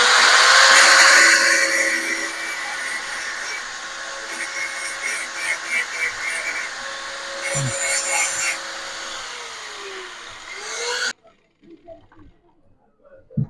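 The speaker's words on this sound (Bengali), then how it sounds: "আমরা এখন একটু গ্রাইন্ডিং মেশিন দিয়ে একটুখানি রেখে দিব" A handheld grinding machine grinds a metal part on the body of a microwave oven under repair, a steady loud whine running about eleven seconds before cutting off abruptly, then quiet bench sounds.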